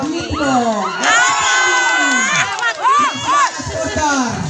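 Football supporters at a village final match held for Indonesian Independence Day roar and shout together, a loud close crowd of rising and falling cheers and whoops with excited voices yelling over one another.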